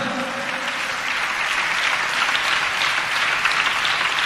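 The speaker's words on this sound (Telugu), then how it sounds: "చప్పట్లు కొడుతూ ప్రభుకు స్తోత్రాలు చెప్దాం" A large church congregation claps continuously, a dense, even wash of applause lasting the whole stretch without pauses.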